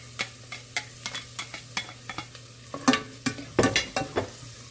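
Garlic fries in a pan with a soft steady sizzle, broken by frequent scraping clicks and knocks as a utensil stirs it, close up and with no talking.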